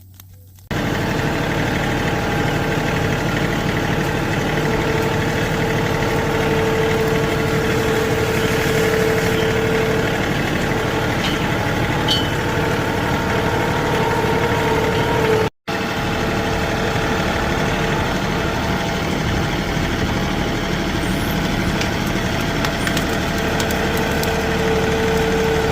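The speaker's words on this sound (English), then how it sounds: "The key to using the tractor is you keep the brush low as you go in and push the pile in." A tractor engine runs steadily at a loud, close drone while pushing brush into a burning pile, with faint cracks and snaps of wood and one brief dropout midway.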